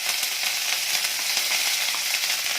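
Mustard seeds and curry leaves sizzling in hot oil for mullangi palyamu, a dense, bright, continuous crackle and spit, close and steady throughout.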